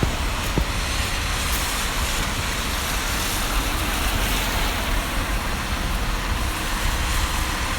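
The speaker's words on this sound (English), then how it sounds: "Sorry about the traffic noises." Steady road traffic on a snowy, rainy, slippery day: a continuous broadband rush of passing vehicles on wet pavement, fairly close and constant, with no talk over it.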